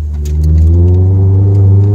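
A Lotus Elise S2 sports car, a light 122 hp roadster, revs hard as it accelerates, its engine note climbing steadily in pitch, loud and close, with no talking.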